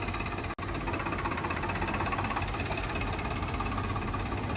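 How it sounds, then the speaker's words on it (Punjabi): A new Swaraj 969 tractor running a red Shaktiman 8-foot super seeder in a field, a loud continuous engine drone with rough knocking vibration and one brief dropout near the start. "ਨਵੇਂ ਟਰੈਕਟਰ ਦੇ ਨਾਲ ਇਹ ਸ਼ਕਤੀਮਾਨ ਦਾ 8 ਫੁੱਟਾ ਸੁਪਰ ਸੀਡਰ ਚੱਲਿਆ"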